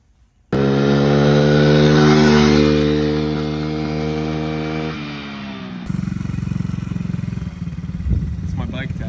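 A cheap kids' quad engine starts up and runs loud and steady with a buzzing, harmonic drone that eases slightly, then shifts to a rougher idle near the end.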